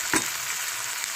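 Lemon-sized tamarind with seeds removed is stirred into a sizzling seasoning in a pan, giving a soft, steady frying hiss with one brief scrape of the spoon near the start, with no talking.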